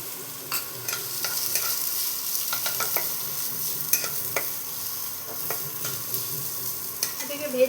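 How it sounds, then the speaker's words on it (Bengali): Chopped onion and three green chilies fry in a pan, a constant sizzle under repeated clacks and scrapes of a spatula stirring, close and moderately loud, with no voices. "এটাকে ভেজে নেব।"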